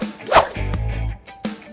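A mixed-breed female dog gives a few short, close yips and barks, with a sustained low whimpering tone between them, all alone and fairly loud.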